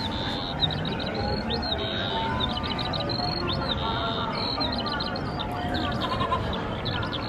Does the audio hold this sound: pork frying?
no